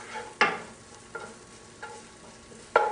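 A pan of sauce with cheese and paprika cooks over the heat, a soft steady bubbling under a few sharp clinks of a utensil against the pan, close and with no voices.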